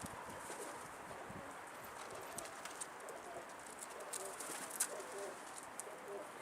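A Tutak dolapçı pigeon coos faintly against soft outdoor background noise, with a few light chirps and rustles and no nearby voices.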